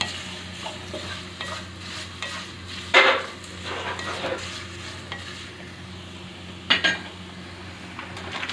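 A mixture is stirred in a cooking vessel with a faint sizzle beneath, and a spoon scrapes and clinks against the pan in a couple of brief, louder knocks amid soft, steady stirring.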